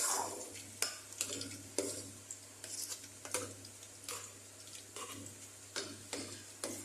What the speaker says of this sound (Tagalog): Haluin natin to para mas matimplang maayos.